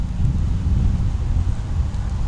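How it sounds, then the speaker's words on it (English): Strong wind buffeting a small long range drone in flight, a steady, loud low roar and rumble with no pauses throughout. "it's super windy."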